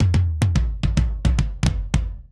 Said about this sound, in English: here I have a tom roll